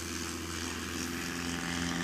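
A rare 2021 Badlands Traveler bush plane takes off at a STOL event in Jennings, Louisiana, its propeller engine a steady, loud droning hum that holds constant throughout without any voices.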